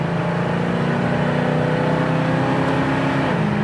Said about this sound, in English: Go through the gears on it manually. It's got some get up and go.